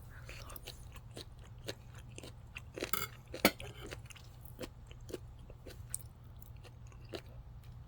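Someone chewing Australian greenlip abalone, a rubbery, cartilage-like seafood, making soft moist bites with one sharper crunch near the middle, close to the mic over a low steady hum.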